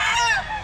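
Roundhead roosters crow loudly and close at a Grotto pet market, one strained, wavering call that fades quickly.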